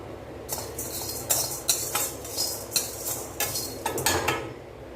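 Toor dal being dry roasted in a pan with a pinch of asafoetida for a traditional paruppu podi, a spoon scraping and stirring in a steady series of close, short scrapes over a quiet background.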